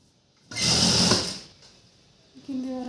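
A sewing machine loudly stitches along an embroidered work blouse neckline for about a second, then stops, and a second burst of whirring starts near the end.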